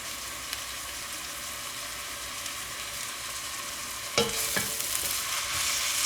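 Vegetables with salt sizzling in a frying pan for meat lasagna, a steady bright hiss close up, broken near the end by a few clattering stirs of a utensil against the pan.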